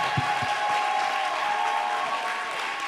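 A church congregation applauds loudly and steadily for the Lord, a dense continuous wash of clapping lasting throughout.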